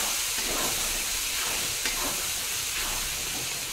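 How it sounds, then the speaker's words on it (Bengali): Ground spices sizzling and frying in hot oil for a chicken curry, with turmeric, chili and salt mixed in; a steady, close hissing sizzle runs throughout with faint stirring. "মশলাটা ভালোভাবে ভাজা হয়ে গেছে, সেই জন্য তেল ছেড়ে দিয়েছে"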